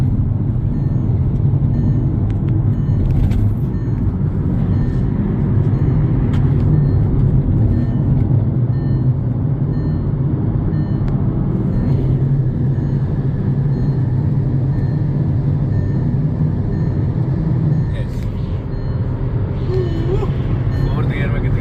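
A Volkswagen Virtus Comfortline 1.0 TSI pulls hard in fourth gear on a rough road, its steady engine drone and road rumble loud and continuous throughout.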